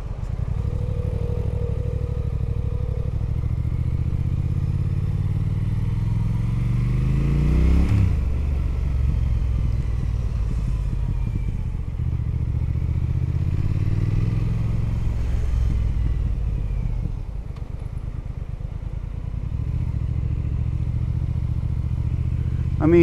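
Steady engine drone of a 2018 Triumph Thruxton R motorcycle riding through London streets, with a rising rev sweep around the middle and continuous low rumble throughout, accompanied by someone talking over it.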